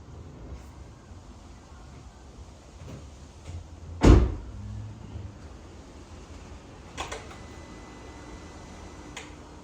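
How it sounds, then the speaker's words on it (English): Throttle pedal of a VW CC with a freshly rebuilt engine being reset, giving one sharp, loud click followed a few seconds later by a fainter pair of clicks over a low background hum. "If you hear a couple of clicks, that is me resetting the throttle pedal."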